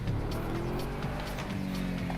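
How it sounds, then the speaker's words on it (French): A quad bike engine drones steadily in the GTA RP video game, a constant, close motor hum with faint rhythmic tapping over it and no talk. "C'est un quad, putain j'ai cru que c'était une moto."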